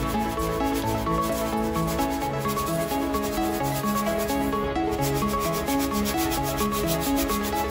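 Fine sand sprinkled over compost covering freshly sown agapanthus seeds in winter, a continuous soft granular hiss and rubbing, close and steady throughout without any talking.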